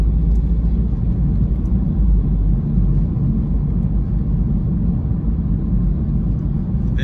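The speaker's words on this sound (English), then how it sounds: "The vehicle picks up very nice and smooth with no hesitation." A 2014 BMW 320d xDrive Sport accelerating on the road, heard from inside as a steady low diesel rumble and road noise that holds constant throughout.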